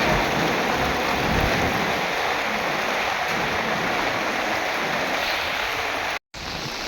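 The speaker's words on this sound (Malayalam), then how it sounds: "നല്ല മഴയാണ്" Heavy rain pours steadily and loudly throughout, a dense, unbroken hiss and patter close by, with a brief dropout near the end before the downpour resumes.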